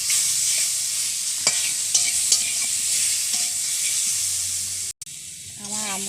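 Mango pieces coated with salt and turmeric fry in a pan with a steady, close sizzle, broken by a few scraping stirs and a brief pause near the end.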